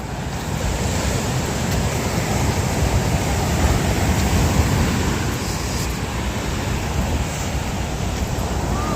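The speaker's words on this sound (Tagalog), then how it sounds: "Lumaki na naman ang alon." Heavy surf roaring continuously, large waves breaking with steady wind noise on the microphone, loud and close.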